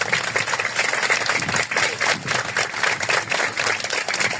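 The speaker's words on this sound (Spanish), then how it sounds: "Le damos un aplauso al Señor." A church congregation applauds during a Spanish-language service, dense continuous clapping with rhythmic pulses, loud and steady with no voices over it.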